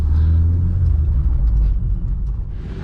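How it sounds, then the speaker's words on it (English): A deep, lumpy idle from a cammed 1.8 turbo engine in a Mk2 car running on E85 rumbles steadily up close, with an uneven, loping beat and no voices. "the cam idle's nice."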